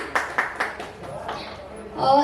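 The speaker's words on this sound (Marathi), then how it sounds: "जोरदार टाळ्या यांच्यासाठी" A studio audience claps for television serial actors at a show: three or four distinct, sharp clap bursts in quick succession, moderately close, before a voice starts speaking.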